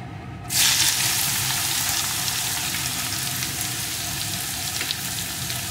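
Chopped ash gourd tipped into hot tempered spices in a pan, a sudden loud burst of sizzling that settles into a steady close frying hiss, without speech.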